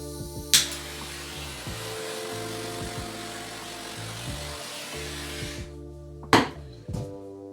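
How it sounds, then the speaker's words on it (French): Blowtorch heating an acrylic paint pour, a steady hissing roar with a low tonal hum, interrupted by a few sharp clicks and knocks near the start and end. "Je prends mon chalumeau et je peux chauffer."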